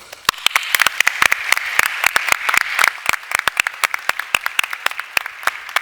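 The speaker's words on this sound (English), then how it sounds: "So round of applause for everyone." Audience applause at the YMCA World Council 2022 as a panel stands on stage, a steady patter of many hands with sharp individual claps standing out, loud and close, no voices over it.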